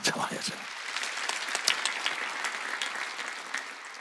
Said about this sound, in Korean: 믿으면 박수야